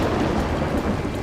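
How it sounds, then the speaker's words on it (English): Heavy desert thunderstorm rain pours as a dense, loud, continuous roar with a deep low rumble throughout, no voices present. "This is the worst rain and weather we've had yet."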